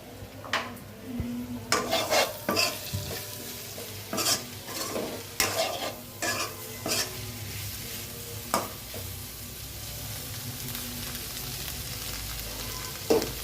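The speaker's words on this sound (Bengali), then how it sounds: "এদিকে পেঁয়াজ রসুন ভাজা হয়ে গেছে, এবার শাকগুলো দিয়ে দিচ্ছি।" Onion, garlic, chilli powder, ginger paste and cumin paste fry in a pan with a continuous sizzle, while a spatula scrapes and clinks in quick bursts early on, then the frying carries on steadily alone.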